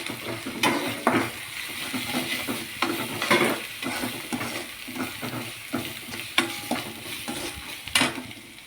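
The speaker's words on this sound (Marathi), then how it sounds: "आता इथे हे जे सर्व मसाले आहेत तेही याच्यासोबत परतून घ्यायचे." Spices and ginger garlic paste sauté in a pan over a high gas flame, giving a soft sizzle broken by repeated scraping stirs.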